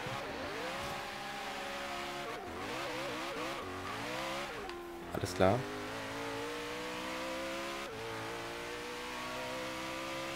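A Ford GT race car driven in Forza Horizon 3, its engine revving up and down through gear shifts in a steady, loud drone, with a brief squeal and someone talking over it.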